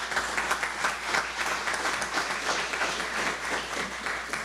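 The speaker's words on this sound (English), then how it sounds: "A round of applause for them as well." Sustained applause from a ceremony audience honoring performers, dense steady clapping of many hands with a lively, even texture throughout, fairly loud and uninterrupted by speech.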